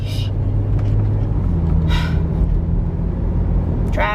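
Road traffic heard from inside a vehicle, a low steady rumble with occasional hissing passes and a brief sharp sound at the end.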